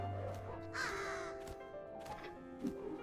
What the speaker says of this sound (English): Alright, so there's the crow they mentioned before, remember?